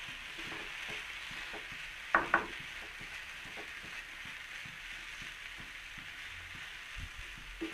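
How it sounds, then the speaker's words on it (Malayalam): Vegetables frying in a pan for rava upma while being stirred steadily, a continuous sizzle with soft scraping strokes and a couple of sharper knocks of the spoon against the pan. "ഇത് തുടരെ ഇളക്കിക്കൊണ്ടിരിക്കണം. ഞാൻ ഇതിനകത്ത് വെജിറ്റബിൾ നല്ലപോലെ ഇട്ടിട്ടുണ്ട്."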